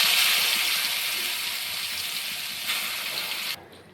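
Grated ash gourd, squeezed of its water, hitting hot oil in a pan gives a steady, loud hiss that slowly eases off over a few seconds before cutting out abruptly near the end.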